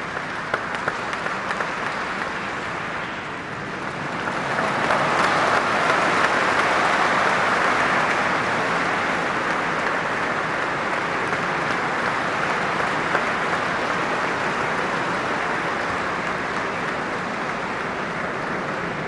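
Dignitaries applaud at an award ceremony, a sustained wash of clapping that swells after a few seconds and holds steady and loud to the end.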